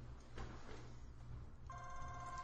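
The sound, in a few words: phone ringing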